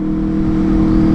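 An Aprilia RSV4 motorcycle engine hums steadily while riding on a chip-and-seal street, a loud, close, continuous drone with a slight rise in pitch.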